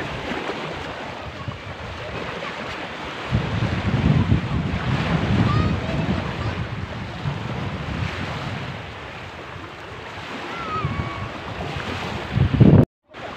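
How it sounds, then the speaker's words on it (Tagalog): Powerful southwest monsoon gusts roar loudly against the microphone on a beach baywalk for the whole stretch, mixed with a wash of surf and faint voices, cutting off abruptly at the end. "Lakas ng hangin"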